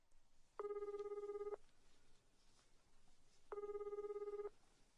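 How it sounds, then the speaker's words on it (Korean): A telephone ringback tone sounds twice, each burst about a second long with a steady electronic buzz, separated by quiet pauses, as a call to the president is placed. "대통령에게 전화를 거는 것이었다"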